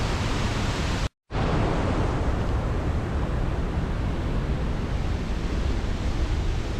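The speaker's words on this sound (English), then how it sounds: "The waterfall itself on a day like this is just incredible." Reekie Linn waterfall in Scotland roars as a dense, steady broadband rush, loud and close, with one brief dropout near the start.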